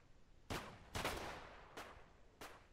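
Enemy players fire on a player in the survival shooter Deadside, sharp distant gunshots in a sparse run of about four or five reports, the second a quick double, set against quiet background.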